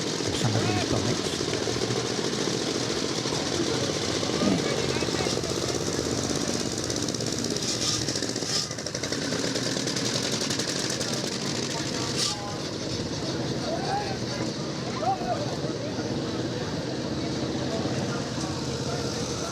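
A little 1911 Triumph motorcycle sets off at a vintage motorcycle run, its engine firing in a rapid, rough, continuous chatter, loud and close, with other event noise around it.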